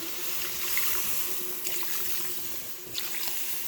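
Water poured into a pan of potato and cauliflower curry after the spices are fried in oil, a steady close splashing, hissing pour that runs continuously, with no voices.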